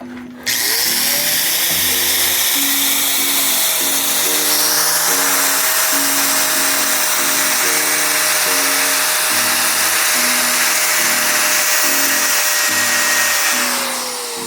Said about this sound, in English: I'm just going to give her a quick light sand